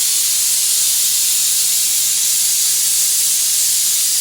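A pressure cooker whistles as it vents steam while dried fish curry cooks, giving a steady, loud hiss that lasts throughout with no break and no voices.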